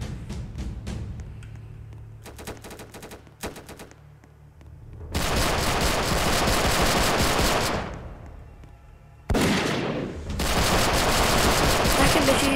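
Rapid automatic gunfire from a war simulator video game comes in long, loud sustained bursts, separated by shorter rattling volleys and brief pauses.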